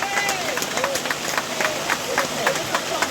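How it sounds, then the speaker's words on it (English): Applause for Mr. Davis at a community meeting about bringing piped water to the area, a steady patter of scattered claps from a modest crowd, moderately loud and continuous. "Davis a round of applause."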